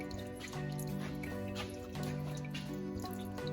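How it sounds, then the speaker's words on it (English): Coolant water from a '66 Ford Mustang with a 302 engine drains and drips onto a garage floor in a steady, soft trickle under a faint background hum. "There goes all of our water on the floor."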